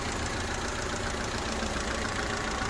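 The engine of a 1999 EK Honda Civic sedan runs steadily after an engine swap, a constant close idle with no talk.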